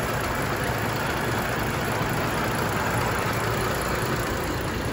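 A 1934 Rolls-Royce Phantom II engine idles after a cold start, a steady, loud, even rumble with a constant hiss throughout and no talk.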